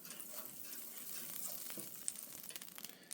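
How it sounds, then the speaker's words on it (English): Butter melts on a hot Blackstone 17-inch E-Series griddle, a faint steady hiss with light crackles and a few small pops, quiet and close with no voices. "Throw on a little bit of butter."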